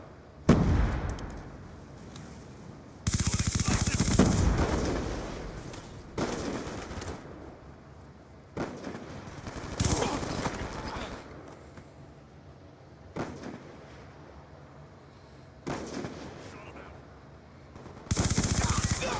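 Automatic weapon fire from a Call of Duty game, a loud, close series of rapid bursts separated by pauses, with occasional voices in between.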